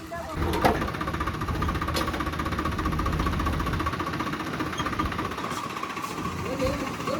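A tractor engine idles steadily near a fertiliser shop and godown, a continuous rumbling drone lasting the whole stretch, with voices talking faintly over it.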